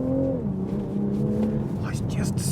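A Toyota Supra accelerating on the road, its engine note rising and shifting steadily up close as the car pulls forward, with a faint voice partly over it.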